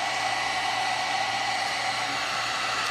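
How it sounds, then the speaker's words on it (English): A hair dryer blows on paint with a loud, steady airy whoosh that stays constant without breaks, and no voices are heard. "I'm going to hit it again with the dryer."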